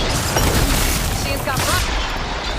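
Gunfire in a Horizon Forbidden West cutscene, a dense, noisy volley of shots and booms that carries on through the clip, with battle shouts heard over it.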